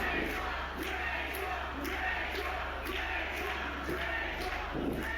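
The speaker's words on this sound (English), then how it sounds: "Crowd getting behind Redshaw" Wrestling crowd at an indie show cheering and shouting in a steady, dense roar with rising swells of excitement, loud and continuous throughout.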